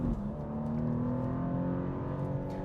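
A 2023 BMW M2 with a manual gearbox pulls away on a handling course, the engine note rising steadily under acceleration, heard from inside the car at moderate volume.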